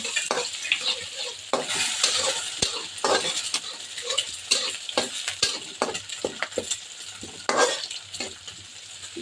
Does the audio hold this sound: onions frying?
yes